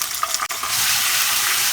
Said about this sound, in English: Saute it for few seconds.